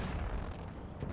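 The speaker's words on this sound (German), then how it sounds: "Wieso schießt du noch rum?" Battlefield 1 game battle noise, a short burst of low, rumbling distant gunfire and artillery-like booms, loud and continuous without a clear pause.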